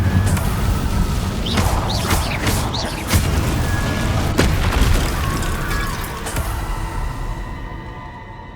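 The Confringo explosion spell in Hogwarts Legacy sets off loud, sustained booming blasts with crashing debris and bursts layered over dense battle noise, fading slightly toward the end.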